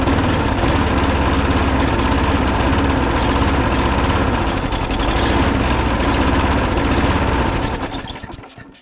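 A Briggs & Stratton Quantum 35 four-stroke engine on an Atco 16s lawnmower runs loud and rough after being pull-started, a steady chugging drone that holds for several seconds before dying away abruptly at the end.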